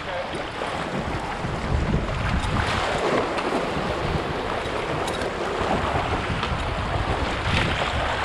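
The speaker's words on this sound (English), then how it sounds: "You gotta paddle hard to get around this." Canoe paddled hard through river rapids on a wilderness trip, with a steady roar of rushing whitewater and wind buffeting the microphone throughout, loud and continuous.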